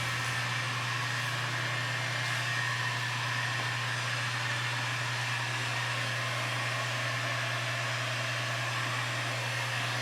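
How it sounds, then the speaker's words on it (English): A heat gun blows steadily while shrinking window tint film on a car's back window, a constant loud whooshing hiss with a low motor hum underneath, unbroken for the whole stretch with no talking. "I'm just going to kind of wiggle the heat gun back and forth about 2 to 3 inches off the film"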